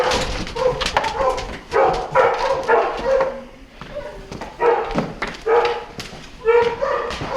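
A pet dog barks and whimpers at close range in a hunting camp, yelps coming in repeated bursts with short pauses, some thumps between.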